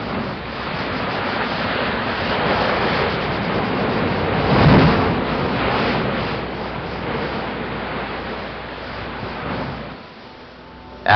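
Ocean waves crash and boom at Thunder Hole on the rocky Maine coast, a loud, continuous roar of surf with a heavier swell in the middle before it eases off.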